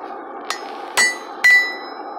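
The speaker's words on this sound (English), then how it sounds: "Punch it once, remove it, cool it down. Punch it again." A hammer striking a punch into hot forged steel for a wall hook, giving three ringing metallic blows at close range, a light tap then two louder clanging hits, over a steady forge hum.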